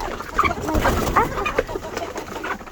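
Chickens cluck in short, irregular bursts at close range, several birds calling over one another with soft scratching noise beneath.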